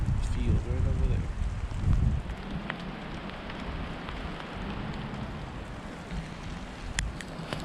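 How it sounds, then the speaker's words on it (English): Steady rain falls outdoors by a field and a line of grouped trees in the Pacific Northwest winter, a constant broadband hiss with some louder rustling early on, as from someone walking through it. "sometimes you just gotta get out in the rain"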